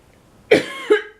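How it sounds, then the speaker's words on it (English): A single sharp cough followed by a second, smaller cough, close and clear against a quiet background. "Cough."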